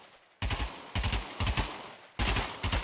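Rapid gunfire in the VR shooter Pavlov aimed at watermelons: three loud, close automatic bursts with brief pauses between them.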